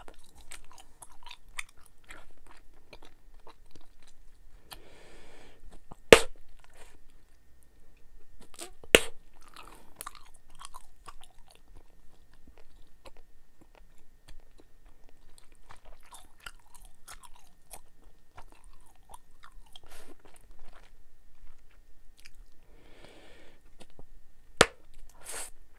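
Quiet close-up chewing of Bubble Dozer truck bubble gum, soft wet smacks and small crunches with a few sharp louder snaps scattered across a steady chewing rhythm.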